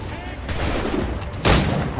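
Gunfire in the Assassin's Creed 3 video game: a couple of loud, sharp shot bursts over game ambience, the second one heavier and closer.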